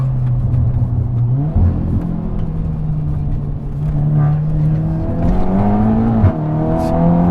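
A Stage 2 tuned Scirocco R engine drones loudly and steadily, pitch climbing through gear changes as it accelerates hard, close and continuous.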